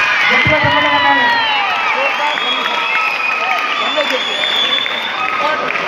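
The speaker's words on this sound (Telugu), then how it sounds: "గట్టిగా చప్పట్లు కొట్టాలి." A crowd of schoolchildren claps loudly and steadily, mixed with shouting and cheering voices, dense and close throughout.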